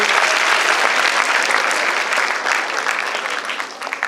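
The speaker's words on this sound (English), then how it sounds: "a bigger round of applause for Videalankar" An audience at a school science event claps loudly and steadily, a dense patter that gradually thins and softens toward the end.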